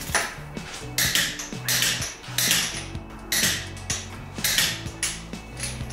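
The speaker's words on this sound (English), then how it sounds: "just torque it down." A torque wrench tightens the wheel bolts on RPF1 wheels going back onto a car, with repeated metallic clicks and ratcheting clunks in short bursts, close and fairly loud, with no talk.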